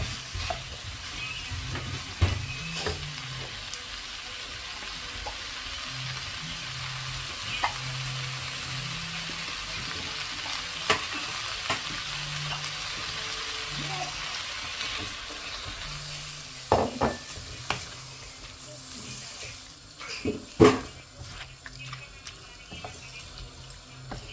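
Mutton intestine curry with chilli powder gets stirred in a pan, a spoon scraping and clacking in irregular strokes over a soft, continuous sizzle, with a few louder knocks toward the end.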